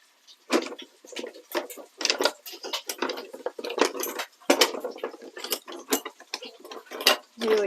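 Ordinary metal kitchen tongs being handled while cooking chicken in cider, giving repeated light metallic clicks and clacks in an irregular rhythm, close and fairly loud.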